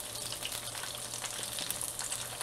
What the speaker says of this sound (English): And bhajia doesn't take too long to fry.